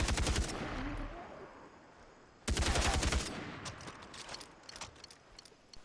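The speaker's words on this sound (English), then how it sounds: "It's an assault rifle, it's very powerful, doesn't fire too quickly, so means you can handle that recoil." Assault rifle fire in the Far Cry 3 video game: two short bursts of rapid shots, each lasting under a second, with quieter mechanical clicks and ticks in between.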